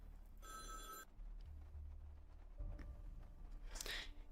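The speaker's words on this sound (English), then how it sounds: "Oh, the phone is ringing." A telephone rings inside the courtroom video game You Are The Judge, one short, bright electronic trill over a quiet background, followed by faint clicks.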